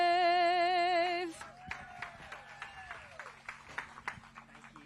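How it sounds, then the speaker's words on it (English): Audience applause after the national anthem at a bass fishing tournament weigh-in at Lake Winnebago, a scattered, fairly faint crowd clapping that follows the last sustained sung note and continues with uneven claps. "Let's give her another big round of applause"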